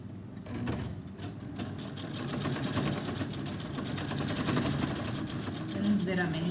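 A sewing machine stitches through several thick layers of fabric for a fabric accessory, giving a steady mechanical whirr that runs the whole time, with a voice talking over it.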